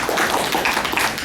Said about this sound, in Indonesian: Tepuk tangan buat Bapak dulu